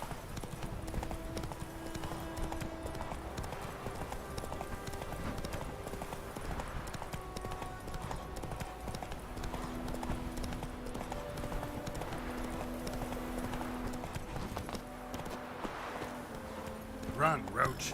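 Roach the horse gallops in The Witcher 3, with steady rapid clip-clop hoofbeats running continuously under game music and effects, while a person talks over the gameplay.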